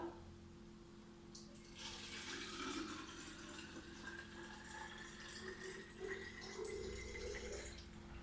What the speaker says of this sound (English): And of course I don't put enough water in the jug.